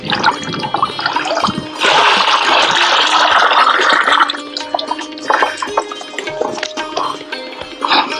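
Jaggery dissolved in water, about 2 kilograms, is poured into a jeevamrut mix, giving a steady close splashing gush that swells loudly near two seconds, then eases into uneven trickles and drips.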